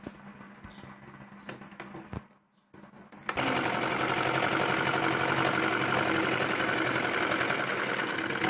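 A sewing machine stitches fabric for a baby dress, first with a few quiet handling sounds and a brief pause, then running loud and steady with a fast mechanical chatter up close for several seconds.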